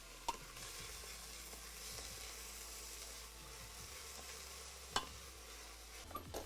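Onions frying in a pan get a quick stir, a faint steady sizzle with a few sharp scraping knocks of the utensil against the pan, no talking.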